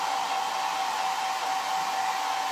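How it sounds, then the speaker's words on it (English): A hair dryer blows steadily on its cold-shot setting, a continuous loud whoosh of air with a faint motor whine, no voices. "I'm just going to hit that with my cold shot on my hairdryer real quick."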